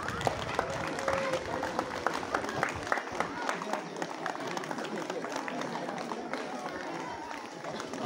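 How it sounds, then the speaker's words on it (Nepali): An audience at a stationery distribution event in a Nepali rural municipality claps together in a dense, continuous round of applause, with voices mixed in beneath. "सबैले ताली बजाउने है।"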